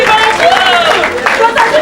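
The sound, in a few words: congregation applauding and cheering at a church service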